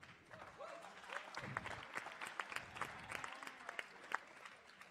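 An audience claps for the winners of an education hackathon challenge, a scattered, moderately dense round of applause with distinct sharp claps standing out, heard fairly quietly with faint voices underneath.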